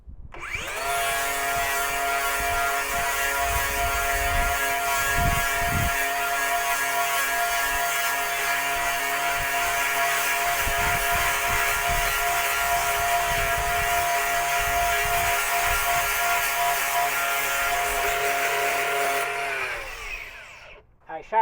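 A power tool sharpens the knife edge of a SHEAREX mulcher, giving a loud, steady, high-pitched grinding whine for about nineteen seconds with occasional low knocks, then winding down at the end.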